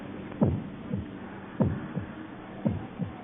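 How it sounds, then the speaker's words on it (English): An irregular heartbeat effect in a radio drama, paired thumping beats arriving at uneven intervals, close and low, with no voice over them. "heartbeat arrhythmic"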